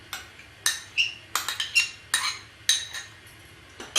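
A spoon clinks against a pot as cream and malai go into simmering seviyan kheer, about a dozen bright metallic taps and scrapes in an irregular rhythm over a low, quiet background.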